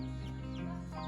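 A baby chick chirps in a quick run of high, thin peeps over a steady low background hum, close by and fairly faint.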